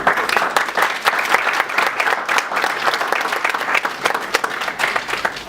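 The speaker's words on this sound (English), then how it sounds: "A round of applause for you." An audience breaks into lively applause, a dense, fluttering patter of many hands clapping steadily at moderate volume, with no voices standing out.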